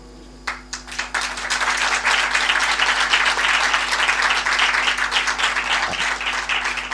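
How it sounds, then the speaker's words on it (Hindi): An audience at a satsang spiritual gathering breaks into sustained applause, a few scattered claps first, then a full, even clapping that holds steady for several seconds before easing slightly. "देखो ताली आप बजा रहे हो"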